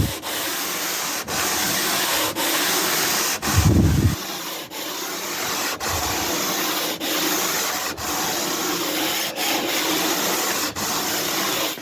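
Something is rubbed back and forth across an antique wooden dining table surface to remove swirl marks. Rhythmic, close abrasive strokes repeat about once a second with brief pauses between passes.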